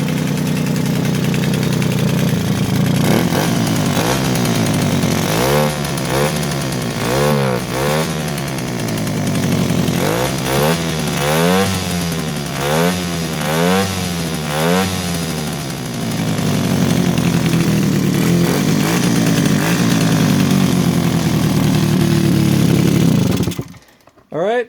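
Small single-cylinder engine of a Suzuki LT-A50 ATV running close by, revving up and down in quick, repeated bursts before settling to a steady loud idle and cutting off abruptly at the end.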